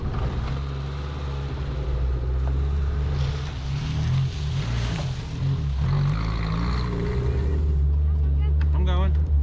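A Suzuki Samurai engine rumbles steadily and close while the vehicle crawls slowly over a bumpy woodland trail, with rattles and knocks over the constant low drone.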